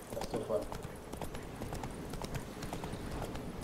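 Roach the horse's hooves clip-clop steadily in The Witcher 3, a moderate rhythmic trot that runs throughout under a voice talking.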